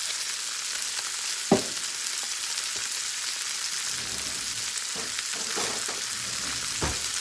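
Chicken breast seasoned with salt and pepper sizzling and frying in a hot pan on a stovetop, a steady hiss with a few sharp pops and clatters, close and continuous with no talk.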